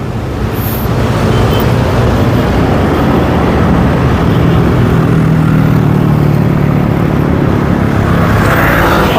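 Steady roar of heavy road traffic near Magallanes on the SLEX, many cars, buses and motorcycles passing close by as a continuous, loud, dense rumble with no talk.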